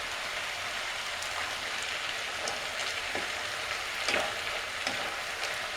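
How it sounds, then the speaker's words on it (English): Tomato pieces tipped into ratatouille cooking over medium heat in a skillet, giving a steady, close hiss of frying with faint crackles and a brief louder spatter partway through. "Now we add tomato."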